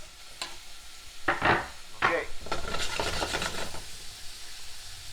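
Sausage dropping into hot olive oil in a pot, giving a few bursts of sizzling and scraping as it is stirred, then a steady softer fry; a voice speaks briefly.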